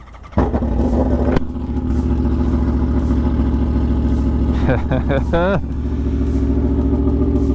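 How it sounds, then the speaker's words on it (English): An Aprilia Tuono motorcycle fitted with an SC Project GP22 exhaust idles with a deep, steady burble, then gives a couple of sharp rising throttle blips before settling back to a loud, close idle. "this Aprilia Tuono with that SC Project GP 22 exhaust"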